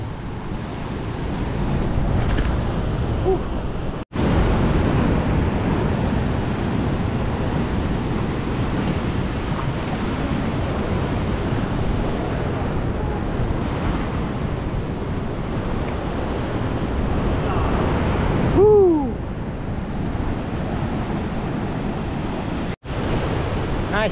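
Rough sea water surges and breaks around a rock arch near an island off Mersing, a loud continuous roar of waves buffeted by heavy wind noise on the microphone, with a brief tonal whine partway through.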